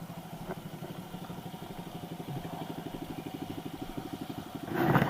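A Kawasaki KLX dirt bike engine idles close by with a steady, fast, even putter, and a brief louder burst comes at the very end.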